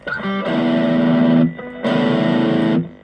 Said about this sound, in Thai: ต่อไปนะครับเป็นเสียงแตก